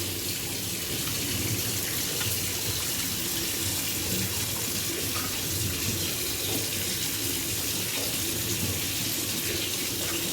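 Tap water runs steadily into a sink while food is rinsed in a home kitchen, a continuous close splashing rush with no pauses and no talk.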